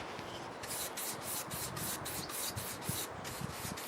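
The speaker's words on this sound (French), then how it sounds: "Là c'est juste poncer vite fait." Rapid back-and-forth sanding across a stone surface, a steady hissing rasp with regular strokes about twice a second, close and continuous.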